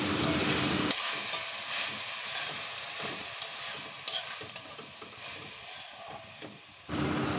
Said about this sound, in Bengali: লাল শাকটা দিয়ে ভালোভাবে নেড়ে চেড়ে বেশ শুকনো শুকনো করে নেব